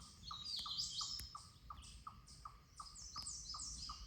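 A bird repeatedly calls with quick, bright chirps in a quiet forest in the Shenandoah Mountains, each note sliding down, spaced in an irregular rhythm.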